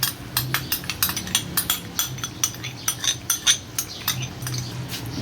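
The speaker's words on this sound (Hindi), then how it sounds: "अब हम इसमें क्रीम ऐड करेंगे और इसको अच्छी तरह से मिक्स करेंगे।" Spoon stirring cream into white chicken karahi in a cooking pot, a quick run of close metallic clinks and scrapes in steady rhythm, with no talking.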